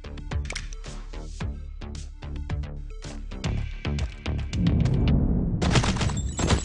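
Rapid gunfire from the shooting game Run n Gun, a burst of sharp close shots in uneven volleys that grows denser and heavier toward the end, with no talking.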